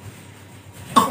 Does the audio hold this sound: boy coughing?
yes